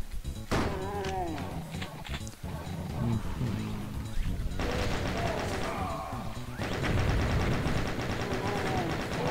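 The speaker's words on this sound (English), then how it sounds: "Who's shooting at me?" Gunfire from enemies in Doom with the Realm667 monster mod. Dense bursts of shots and crashing impacts fill the scene almost continuously, loud and close, with short lulls and overlapping game effects.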